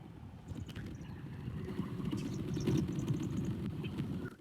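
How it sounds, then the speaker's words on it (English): Steady wind rumble and buffeting outdoors, carried through an HDMI-to-IP encoder's ONVIF audio stream, a continuous low roar with faint higher flutters and no voices. "You can hear the wind in the background."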